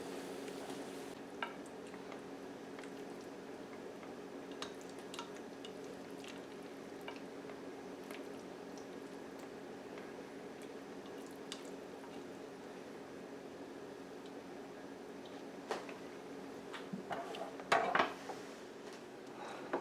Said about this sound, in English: Let me go ahead and get us some plated up